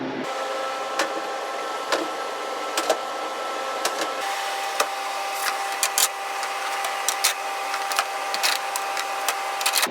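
A freeze dryer starting up, loaded with salmon, hums and whirs steadily, its motor note shifting partway through, with scattered clicks and ticks as it runs up.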